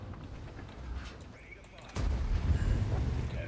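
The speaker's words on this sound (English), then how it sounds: "what I love about it is just the sound of the gun. It's just immense." A tank cannon firing in World of Tanks, a single heavy boom that hits suddenly midway and leaves a deep, rumbling tail under low background game noise.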